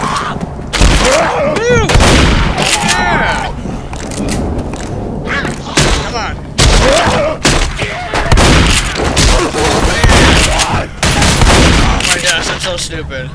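Heavy, loud gunfire from Left 4 Dead pounds in repeated bursts and rapid volleys over several seconds, with brief pauses between and some shouted talk.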